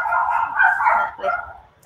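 Dogs barking indoors at an event, a close, continuous run of yappy barks and whines that fades out at the end.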